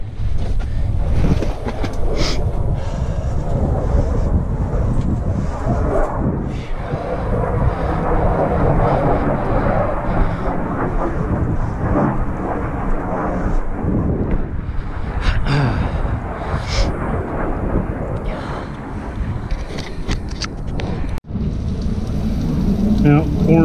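Heavy rain pours down during a thunderstorm in the Wichita Mountains near a cave, a loud steady roar with wind buffeting the microphone throughout and a person speaking at times.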